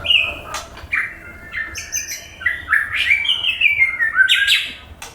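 A magpie robin (murai) sings close by, a run of clear whistled phrases and chirps that rise and fall over about five seconds, growing fuller toward the end, with no other sounds.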